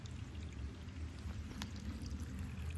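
Flood water from heavy rain runs as a stream through a dug-out channel in a yard, a faint steady rushing and gurgling wash with no talk.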